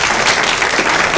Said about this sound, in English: so just another round of applause for them